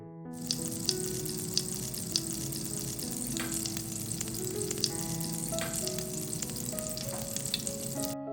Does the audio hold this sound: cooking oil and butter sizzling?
yes